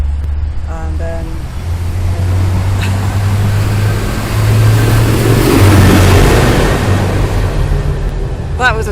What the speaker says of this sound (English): that was a tractor going past